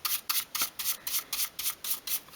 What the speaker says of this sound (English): use a soft brush just to remove all of the sanding dust from between